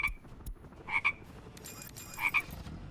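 Frogs in the city-building game Workers & Resources: Soviet Republic give short paired croaks, quiet against a hushed background. Two clusters of croaks come about a second apart, each made of two quick calls.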